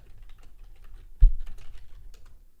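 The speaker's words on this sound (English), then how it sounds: "If you do hear typing, that is me just typing in my private community" Quiet, steady typing on a computer keyboard, with soft key clicks in an uneven rhythm and one sharper, louder keystroke partway through, heard close up with no voices.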